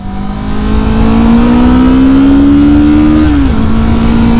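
A Kawasaki Vulcan S motorcycle engine revving while riding, loud and close, its pitch climbing steadily and then dropping sharply as the rider eases off.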